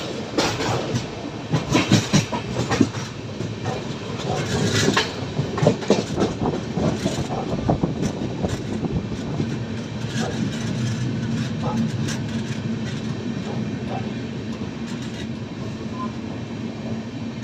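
A Sampark Kranti express train passing through Mathura Junction without stopping, heard from on board as a steady rumble with rhythmic clickety-clack of wheels over rail joints, loud and continuous with little talk.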